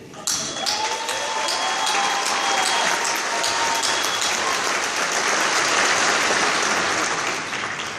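An audience at a graduation ceremony breaks into loud, sustained applause, a dense wash of many hands clapping that swells slightly and holds steady throughout.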